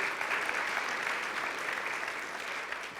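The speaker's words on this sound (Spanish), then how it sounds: "Dale el aplauso de alabanza al Señor" Sustained clapping of a church congregation praising during a sermon, dense and steady throughout without a break, with no voices over it.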